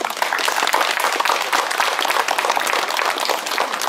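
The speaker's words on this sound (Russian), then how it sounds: "Эти аплодисменты звучат в вашу честь." Warm, dense applause from an audience at a festive mini-concert honoring veterans, many hands clapping steadily and evenly for several seconds without a break.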